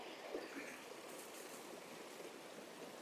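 Faint, steady wash of water flowing at Bayyaram (Pandavula Gutta) waterfall in Telangana, a soft continuous rush heard from some distance.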